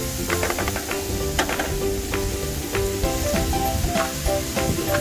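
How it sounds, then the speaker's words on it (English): Ground pork sizzles and crackles loudly in a hot pan, a steady dense frying hiss with small pops and stirring sounds throughout. "let's fry this up, get it started."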